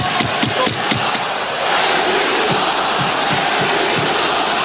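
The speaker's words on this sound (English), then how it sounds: "Crowd reacting to a non-call moments ago." Hockey arena crowd at an Edmonton Oilers versus Florida Panthers NHL game reacting to a non-call, a few sharp thuds and then a loud sustained roar of boos and shouting.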